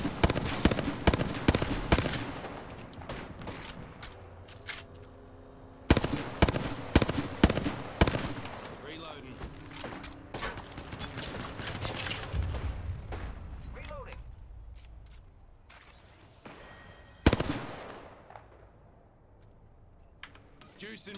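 Bursts of rapid gunfire from the shooter game Nightmare Reaper, loud staccato volleys in clusters with pauses between, accompanied by other game sounds and a voice talking over the action.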